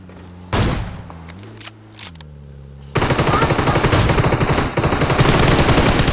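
Rapid, loud, continuous machine gun fire in the PUBG Mobile shooter game, bursting in sharply after a low droning hum and a brief thump and continuing without pause to the end.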